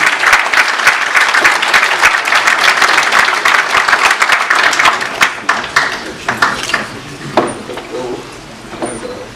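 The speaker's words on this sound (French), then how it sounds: "Sous vos applaudissements, mesdames et messieurs." An audience at the 2017 Mandela Prize ceremony welcomes a speaker with loud, sustained applause that thins into scattered claps and fades toward the end.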